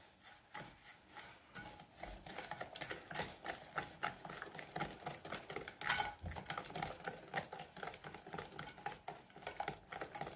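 Three eggs and a cup of sugar being whisked by hand for a Sivas-style gülüt cake batter, a steady run of quick, close scraping strokes against the bowl with no talking.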